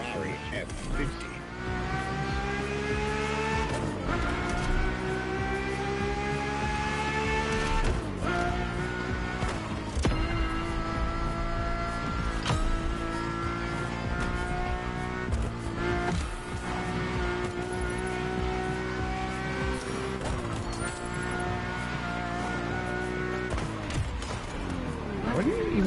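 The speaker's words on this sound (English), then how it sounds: "nothing less than a road-legal Formula One, a Ferrari F50." A Ferrari F50 engine in The Crew Motorfest racing game, a loud, steady high-revving roar with rising pitch sweeps as gears shift, continuous throughout, with faint talk underneath.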